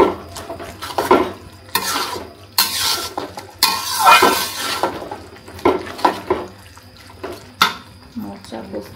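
Thick ground poppy seed paste stirred into cooking banana flower in a pot, with wet scraping and sizzling bursts, spoon knocks against the metal, and a voice talking over it.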